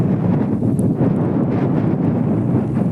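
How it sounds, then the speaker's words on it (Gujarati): Strong wind over a farm field ahead of rain buffets the microphone in a constant, heavy roar with gusty surges, loud and unbroken for the whole stretch. "હમણાં પવન પણ બહુ છે અહીંયા"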